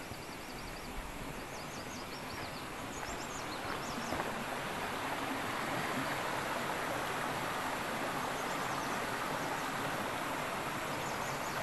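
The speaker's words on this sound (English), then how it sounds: "I'll show you over here at this creek." Water flows steadily in a creek, a constant rushing wash of sound with faint rustling on top, no voices.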